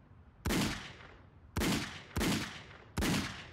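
In Just Die Already, four sharp, loud gunshots ring out at uneven intervals, each with a short decaying tail, and no voices are heard over them.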